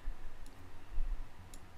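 A computer mouse clicks twice, sharp and faint, close to the microphone over a low steady hum, without speech.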